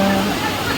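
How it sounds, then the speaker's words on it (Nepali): Rushing floodwater from heavy rain fills a street in Kadaghari, Kathmandu, strong enough to sweep scooters away: a dense, steady roar of churning water that stays close and loud, with a voice talking over it. "यस्तो पानी परेर डुबा हुँदैछ यहाँ त।"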